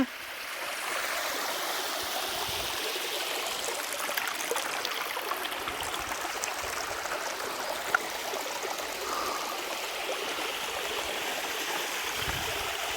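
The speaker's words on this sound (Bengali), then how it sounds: "এই বিশাল বিশাল পাথর এবং পাহাড় পাহাড় গড়িয়ে পানিগুলা নিচে নামছে" The Napittachhara waterfall stream near Mirsarai, Chattogram, rushes down over huge rocks in a steady, unbroken broadband roar of flowing water that stays even and continuous throughout.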